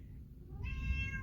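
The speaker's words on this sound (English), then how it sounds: "Excuse my cat." A house cat gives one clear, drawn-out meow partway through, close and fairly loud against a quiet indoor room.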